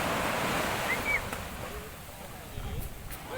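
Ocean waves wash onto a beach in Bicol, a broad, steady surf rush with some wind buffeting the microphone, fading slightly midway and swelling again near the end.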